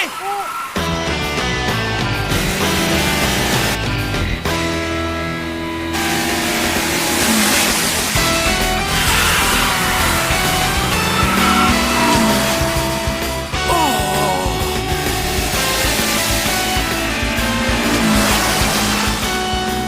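A Toyota AE86 racing another car in the anime Initial D, engines roaring loudly and continuously under a dense soundtrack, with talk and a brief squeal as it overtakes.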